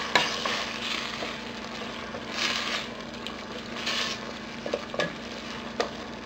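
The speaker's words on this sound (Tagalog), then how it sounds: "Hahaluin lang natin to para mag-mix yung mga ingredients." A spoon scrapes and stirs coconut milk with vinegar in a pan over medium heat, soft rubbing strokes repeating every second or so over a faint steady sizzle.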